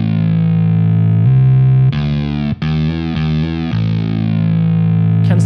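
Electric guitar through a saturated, distorted amp tone, playing a few simple sustained notes in sequence, loud and alone with rich harmonics and brief gaps between phrases.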